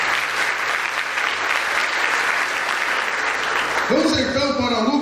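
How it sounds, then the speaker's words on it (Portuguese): A church congregation applauds the mothers with steady, full clapping throughout, and a voice starts speaking over it near the end. "dar um forte aplauso a todas as mães que aqui estão"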